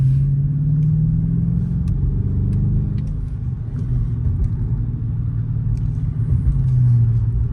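Dodge Charger R/T cruising on the road, a loud steady low engine rumble from inside the car with slight swells in throttle and no talk.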